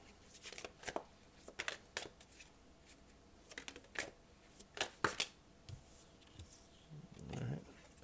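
Tarot cards riffled and shuffled in a series of crisp, papery bursts and flicks, close and fairly loud, with short pauses between handfuls.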